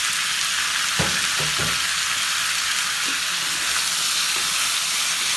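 Meat frying with onions in a pan, a dense, steady sizzle filling the whole clip with a few low knocks of the spoon early on, no speech.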